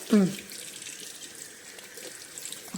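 A child washes both hands under a running tap, with a steady hiss of water flowing into the sink after a brief louder splash at the start.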